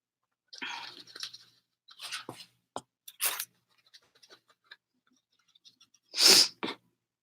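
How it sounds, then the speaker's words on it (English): A loud, sharp sneeze bursts out near the end, with a smaller follow-up, after scattered quiet rustling and soft tapping sounds. "Sneezes are okay, right? On live video?"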